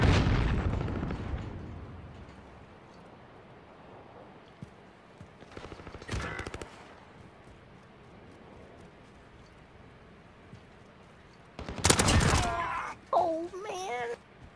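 Gunfire in a video game: a heavy burst at the start, then scattered shots and bangs spaced through the clip, with a louder cluster near the end alongside excited voices.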